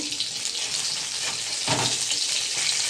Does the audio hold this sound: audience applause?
no